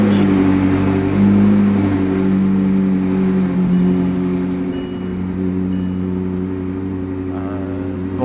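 A McLaren 675 LT Spider sports car pulls away from a garage and accelerates, its engine a loud, close, droning growl that holds strong, then eases slightly, with no talking.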